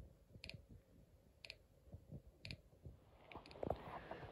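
Snap Circuits metronome circuit producing sharp electronic clicks at a steady one-per-second pace, clear and close, with faint background rustle and handling noise near the end.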